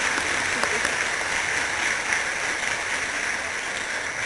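Audience applause at a law institute convocation ceremony for graduating students, a continuous dense patter of many hands clapping, moderately loud and even throughout with no speech over it.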